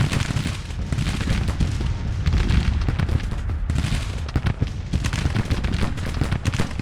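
Civil War infantry in Grand Tactician: The Civil War fire volleys of massed musketry. Crackling gunshots and booms layer into a loud, continuous battle din.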